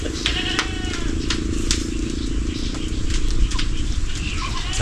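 Goats bleating at a Philippine farm, with several overlapping cries over a steady, busy background of farm noise and a faint motor.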